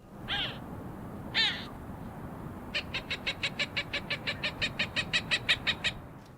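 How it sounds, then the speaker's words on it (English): A Cooper's hawk gives two separate harsh calls, then a long, evenly spaced run of sharp, loud cackling notes, with no one talking. "Well, certainly listen for the hawk itself. Their call is unique, and sometimes they're quite vocal."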